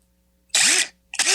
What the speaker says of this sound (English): Impact driver. Yeah, it's an impact.